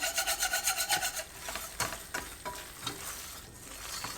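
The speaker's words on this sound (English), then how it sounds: "And here I wanted to use a wire whisk." A wire whisk stirs Konya höshmerim, a Turkish dessert, in a pan over low-medium heat, opening with a fast rhythmic scraping whisk pattern, then slower irregular rubbing and scraping strokes, close and steady.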